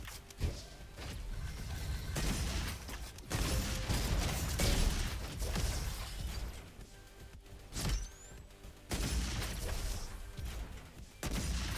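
Automated turrets open fire in RoboQuest, a run of sharp repeated gunfire bursts with mechanical clanks and crashes, loud and close, broken by short pauses amid busy game action.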